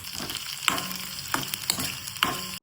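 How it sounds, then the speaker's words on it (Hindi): Onion and flax, sunflower and pumpkin seeds fry steadily in cold-pressed mustard oil, a constant close sizzle broken by three or four sharper clatters of stirring. "अभी भून रहे हैं कच्ची घानी वाली सरसों के तेल में।"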